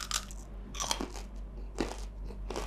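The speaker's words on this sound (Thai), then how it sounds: "เสียงแคปหมูดังขนาดนี้เลย" Crunchy pork crackling being bitten and chewed up close: three or four loud, crackly crunches spaced out in quiet, with smaller crisp snaps between them.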